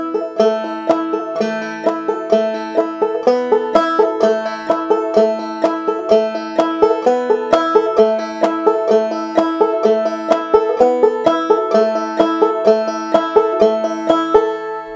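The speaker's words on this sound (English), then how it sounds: "Here is the banjo part." Banjo picking a repeating melodic part, bright plucked notes in a steady rolling rhythm, close and clear with no voices, lasting throughout.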